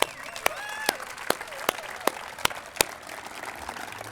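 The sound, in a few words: audience applause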